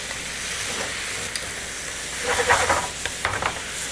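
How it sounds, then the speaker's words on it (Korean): Thin-sliced beef brisket and vegetables stir-fry in a hot pan, a steady sizzle with a few louder hissing bursts as the food is tossed, no talking. "달달달 잘 볶아줍니다."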